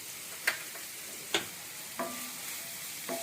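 Curry leaves and green chillies stirred into a hot pan with coconut, salt and turmeric, giving a steady close sizzle and frying hiss, with a few sharp scraping taps of the spoon against the pan.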